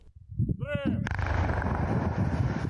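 Controlled blasting of river ice ahead of spring flooding in Bashkortostan produces a sudden, powerful explosion with a sharp onset and a long rumbling roar and debris wash afterward, preceded by brief outdoor voices.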